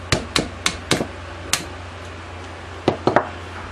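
Sharp metallic hammer taps on a 1/8 inch punch driving out a gun's mainspring housing pin, a quick series of five close, distinct strikes, a pause, then three more taps in fast succession.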